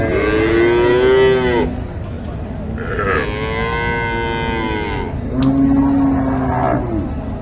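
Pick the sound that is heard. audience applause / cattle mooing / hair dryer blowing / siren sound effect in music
cattle mooing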